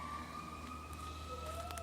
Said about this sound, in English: all I do is hear sirens all the time